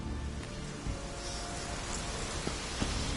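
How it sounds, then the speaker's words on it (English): Steady rain hisses in The Witcher 3 on PS5 Pro, a dense even patter of drops on surfaces with no talk over it and a faint low rumble in places. "Looks like rain."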